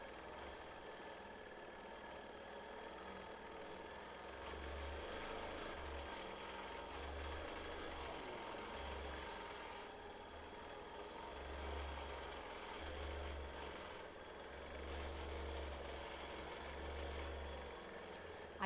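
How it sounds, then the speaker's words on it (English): A sewing machine stitching straight-line quilting at a deliberately slow pace: a low, faint mechanical hum that rises and falls in a series of short stitching runs with brief pauses between, steady and alone. "I typically do sew a little faster than this, but it gets loud on the microphone"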